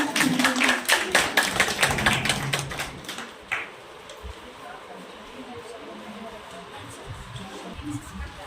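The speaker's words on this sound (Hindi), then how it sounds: "एक बार जोरदार तालियां।" People at a women workers' seminar in Jaipur clap for the Aurangabad team, with a few seconds of close, sharp, uneven hand claps that die away, leaving quiet room noise.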